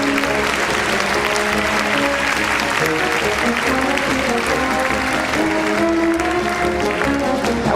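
Audience applause fills a tuba concert hall at a Tuba Bach event, a dense, steady wash of many hands clapping at full strength from start to finish, with sustained tonal sounds running underneath.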